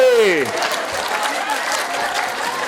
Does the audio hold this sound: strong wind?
no